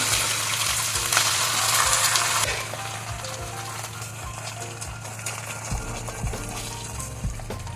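Beef for a beef pickle fries in hot coconut oil with a loud, steady sizzle up close. It eases slightly partway through, and a few light metallic clinks of a utensil sound near the end.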